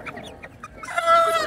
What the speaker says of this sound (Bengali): একদম দেশীয় মুরগি।